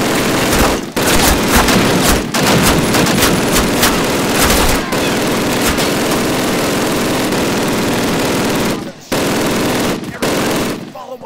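MG42 machine gun fire in Call of Duty: loud, sustained bursts of rapid automatic fire, close and heavy, broken by a few short pauses.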